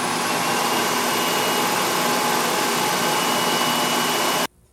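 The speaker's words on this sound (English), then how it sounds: "Listen to the vacuum cleaner on both of its low and high settings." A Hoover Commercial HushTone CH54115 vacuum cleaner on its low setting drones steadily at close range with a broad airy whoosh, then cuts off abruptly just before the end.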